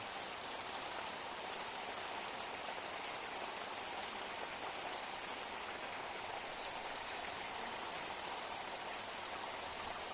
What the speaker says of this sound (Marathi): पाऊस आज पडलेला आहे जोरात मुसळधार